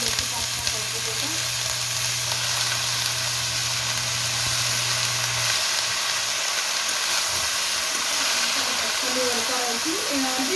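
Spring onion greens sizzle in a hot pan with garlic, cumin and red chilli, a steady loud frying hiss with bubbling crackle throughout and a low hum fading partway through.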